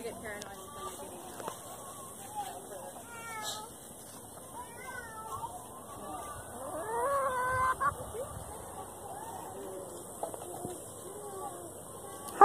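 Chickens cluck and chirp in short, scattered bursts close by, with a voice speaking softly over them.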